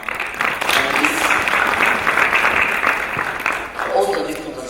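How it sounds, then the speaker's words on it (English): Audience applause for panelists at an annual alumni conference in Kenya fills the room, loud and sustained, with voices murmuring underneath and a speaker starting to talk near the end. "I'm going to ask us to please give a round of applause for our panelists."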